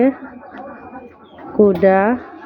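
Pet pigeons give a couple of close, soft throaty coos, the second louder and rising, after a quieter stretch of low murmuring.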